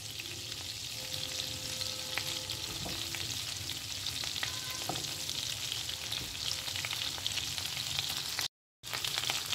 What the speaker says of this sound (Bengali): তো আমি এখানে ব্রোকলিগুলো অ্যাড করে দেবো।